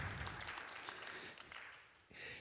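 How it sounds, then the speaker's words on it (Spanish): Applause from a Spanish-language church service congregation welcoming visitors, a brief, moderately quiet burst of clapping that thins toward the end. "Un aplauso para ellos también."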